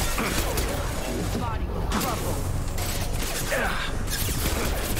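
Gunfire in Mass Effect 2 during Miranda's loyalty mission on Illium, dense and continuous with scattered bursts blending into game effects and a steady mechanical din, with a voice talking over it.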